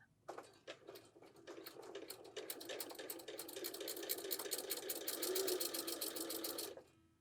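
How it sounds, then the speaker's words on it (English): Sewing machine stitching quilt fabric for a fish quilt block, a fast rapid-fire clatter that starts in short bursts and settles into a steady run before stopping. "I am sewing to the left of it to begin with"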